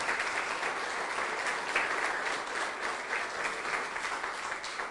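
A church congregation claps together for God, a steady, dense wash of applause from a fairly distant crowd that holds evenly throughout, with no voices over it.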